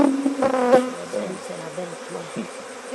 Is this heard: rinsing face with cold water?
no